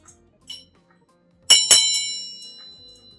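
A bell is struck twice in quick succession and gives a bright, ringing tone that fades slowly, after a couple of faint soft taps in near silence.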